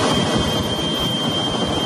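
A US military jet plane's engine gives a steady, loud broadband roar with a thin high whine, unbroken for the whole stretch with no talk.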